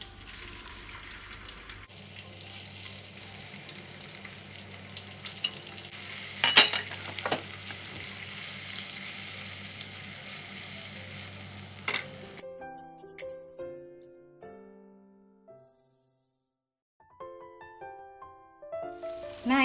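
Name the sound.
frying anchovies (teri) in oil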